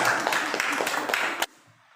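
An audience claps for a group presenting in a class session, with a short burst of many hands applauding that stops abruptly, leaving near silence.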